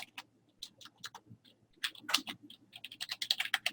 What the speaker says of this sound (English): Wait for Michelle, quit typing.